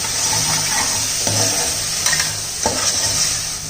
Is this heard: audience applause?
no